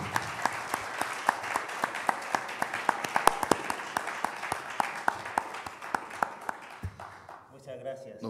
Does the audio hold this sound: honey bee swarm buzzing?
no